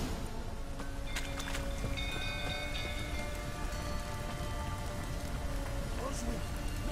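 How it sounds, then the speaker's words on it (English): Steady rain patters on surfaces in the video game The Witcher 3, a dense constant hiss throughout, with faint tonal game sounds and possible muffled voices underneath. "Looks like rain."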